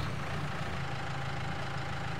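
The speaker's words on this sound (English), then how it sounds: "I love the engine sound." A farm tractor engine idles steadily in Farming Simulator 22, on an iron-tracked machine, giving a continuous low rumble that is moderately loud and alone, with no talk.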